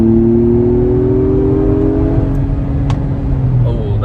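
A 2022 Acura MDX Type S accelerates at full throttle, its engine note climbing steadily and loudly in the cabin, with a brief gear change near the end.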